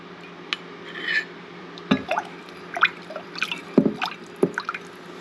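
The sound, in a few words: mixing rice roll batter with salt and oil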